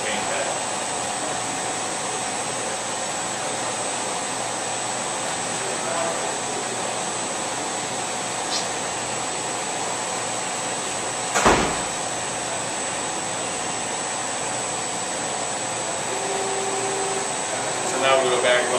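A CNC machine spindle runs a programmed part in a workshop, a steady whirring drone with a sharp clunk partway through and a few faint knocks near the end.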